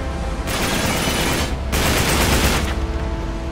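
Heavy gunfire in the video game Uncharted 3: Drake's Deception, a loud sustained burst of rapid shots that breaks off briefly and resumes, dense and close with no talk over it.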